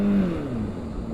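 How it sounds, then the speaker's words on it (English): A 2008 Honda CBR600RR motorcycle braking, its engine note falling and fading as the bike slows over about a second, loud and close with wind rush. "so I'm gonna brake right now"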